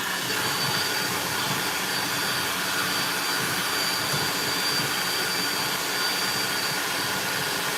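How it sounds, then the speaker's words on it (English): A hand mixer whips a small batch of macaron meringue, a steady, loud, unbroken motor whir that stays even throughout with no pauses or voices. "I use a hand mixer on my smaller batches because it's more efficient and better for the meringue"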